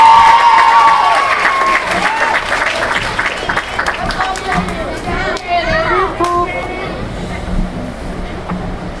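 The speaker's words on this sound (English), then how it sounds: "Let's have another round of applause for our outstanding students." An audience at a 4th grade school ceremony applauds the students, with loud, dense clapping that starts strong and gradually thins out, mixed with crowd murmur and voices.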